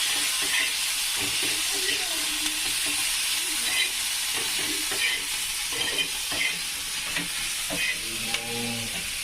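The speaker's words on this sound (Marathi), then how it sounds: "ते भाजण्याच्या वेळेसच मी टाकून द्यायचं मस्त मिरच्या भाजायच्या" Green chillies roast in a pan with salt for thecha, giving a continuous loud sizzle and hiss, with scraping stirs and faint background voices now and then.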